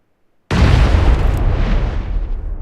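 A grenade explodes in a battle royale video game, a single sudden loud blast that bursts in after a brief silence and rolls on as a long, dense rumbling boom that slowly fades.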